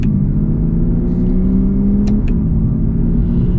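A 2020 Lexus UX F Sport Hybrid with a CVT mimicking gears in manual mode accelerates with a loud, steady engine drone and rising tonal whine heard from inside the cabin, with no speech.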